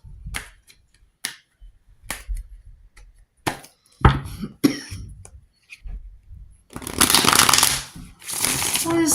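A deck of tarot cards being shuffled at close range: scattered taps and handling noises, then a dense riffling rush over the last few seconds.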